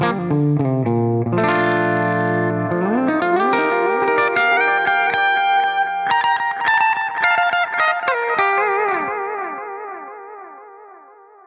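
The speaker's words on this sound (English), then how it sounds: "that was a little cool custom panning delay we made" Electric guitar through an Axe-Fx III with a custom panning delay: low chords, then bright picked notes that repeat as echoes and wash together, finally fading into a decaying delay tail.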